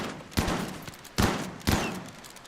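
Three sharp shotgun blasts ring out in the video game Rimworld, spaced unevenly, each with a short decaying tail, fairly loud and clear with no talk over them.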